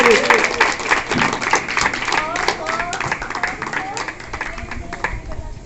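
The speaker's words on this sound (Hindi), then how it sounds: "थैंक यू, बड़े जोरदार ताली बजा के स्वागत करेंगे।" Audience applause welcomes guests at a karate championship event in Goa, India, a loud, dense burst of clapping that gradually thins while voices speak over it.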